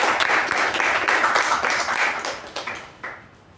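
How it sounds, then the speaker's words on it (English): A round of applause for a speaker at a club meeting, dense and steady clapping from a roomful of people that thins out and fades in the final second. "request all the people to give a resounding round of applause for an amazing speaker"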